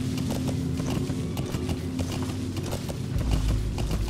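Horse hooves clip-clopping at a steady ridden pace in Metal Gear Solid V: The Phantom Pain, close and even under a low ambient hum, no voices.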